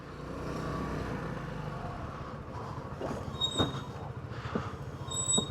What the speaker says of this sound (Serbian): Aha, dobro, to se čuje pločica.